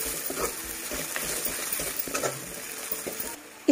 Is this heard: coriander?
yes